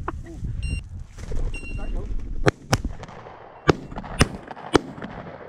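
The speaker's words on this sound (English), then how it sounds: "if you're going to shoot, you need to pull the trigger, mate" Gunshots during a hunt, several sharp, loud cracks at irregular intervals standing out against outdoor background noise and nearby voices.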